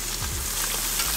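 Garlic frying in a very hot pan alongside searing steak, a steady close sizzle with faint stirring, no voices.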